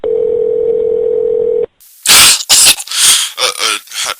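A steady dial tone hums from a computer-based phone for almost two seconds, then cuts off abruptly and gives way to noisy rustling bursts.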